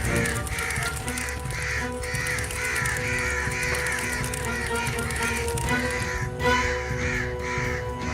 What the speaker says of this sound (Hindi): पेड़ों से, आसमान से बहुत सारे कौवे उन्हें खत्म करने के लिए नीचे आ रहे थे।